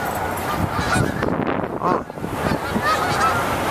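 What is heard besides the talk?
ducks flying overhead, calling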